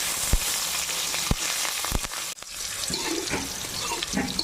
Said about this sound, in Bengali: মশলাগুলো ভাজা হয়ে গেছে, এখন আমি আলুগুলো দিয়ে দেবো।